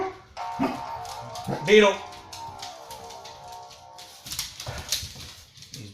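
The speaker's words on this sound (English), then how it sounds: "He's barking at the people working on the house." A dog barks a couple of times at workers on a house roof, sharp calls standing out early, while a person talks over and around them.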